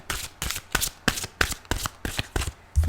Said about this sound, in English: I'm also incorporating the shuffling.